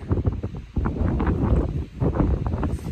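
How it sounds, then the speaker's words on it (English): Strong wind on a mountain high point buffets the microphone with loud, rumbling gusts that roar continuously throughout. "And as you can tell, it's very windy."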